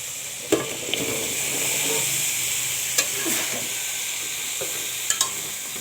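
Pieces of bottle gourd go into a pan of sizzling fish curry, with a steady loud frying hiss throughout and a few soft stirring knocks, no talking.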